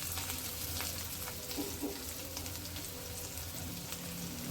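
Ginger garlic paste and green chilies sizzle steadily in hot oil for an aloo samosa filling, a continuous close crackle and hiss without a break.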